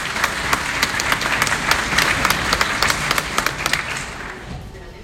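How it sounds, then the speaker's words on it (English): Applause from an audience at a band camp concert, with individual sharp claps standing out over a steady patter before it fades away near the end. "Would you give them a round of applause?"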